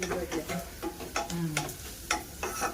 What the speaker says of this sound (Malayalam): ഇച്ചിരി ടൈറ്റായിട്ട് ഇളക്കിക്കും.